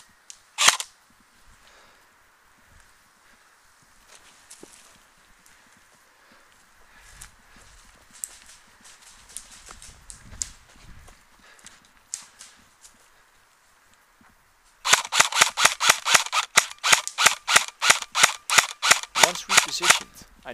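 Airsoft guns fire during a woodland skirmish. Scattered single pops and footsteps come first, then a sharp, fast burst of rapid shots close by at the end. Voices are heard faintly in the background.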